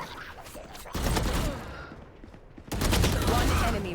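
Gunfire from the game Valorant during a tournament match, with bursts of loud rapid shots starting around one second and again near the end, punchy and close, with commentators talking over it.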